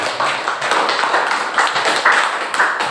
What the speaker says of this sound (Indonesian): Aplaus untuk Dewi